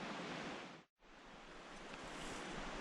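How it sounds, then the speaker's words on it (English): A river rushes below in an old-growth forest on Vancouver Island, a steady broad hiss of flowing water with one momentary dropout and no voices. "I can hear the river down there somewhere"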